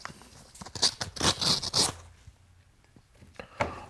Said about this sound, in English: Shall we get it open? See what we've got inside the Golden Envelope this Sunday.